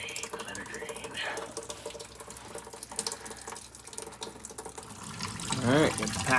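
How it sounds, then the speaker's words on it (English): Leftover coolant drains from a 1956 Ford Thunderbird, a continuous splashing, trickling stream of liquid heard up close, with a voice faintly in the background. "So we gotta drain the rest of it. Let her drain, let her drain."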